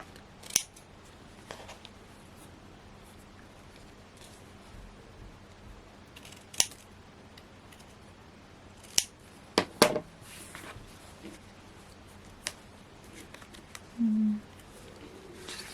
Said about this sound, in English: I'll just trim these down.